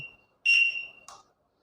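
A sharp electronic beep, then a steady high-pitched electric bike turn signal buzzer tone that fades out, ending with a short chirp, in a quiet setting.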